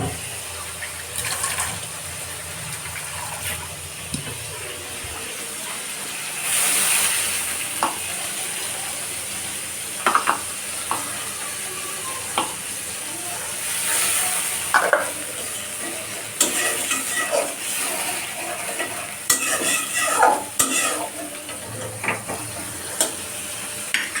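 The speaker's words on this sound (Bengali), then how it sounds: "এটা এখন কষিয়ে নিতে হবে একটু।" Hilsa fish curry being stirred and sautéed in a pan, with scraping spoon strokes, soft sizzling and occasional liquid sloshing, close and fairly loud, in irregular bursts with brief pauses between stirs.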